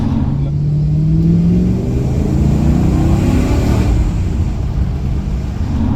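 BMW E39 540i sedan with a 4.4-litre V8 and six-speed manual accelerating onto a highway, a steady low engine drone rising in pitch from inside the cabin, continuous and fairly loud with no talk.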